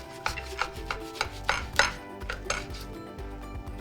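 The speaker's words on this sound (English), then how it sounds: "Grab a knife. Let's give it that little fancy angle cut." A knife saws through a mayonnaise sandwich at an angle, giving several close rhythmic scraping strokes with light taps on a board or plate.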